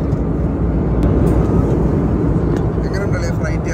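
Steady, loud broadband roar of an airplane cabin while the aircraft climbs quickly after takeoff, a continuous low rumble filling the space without breaks.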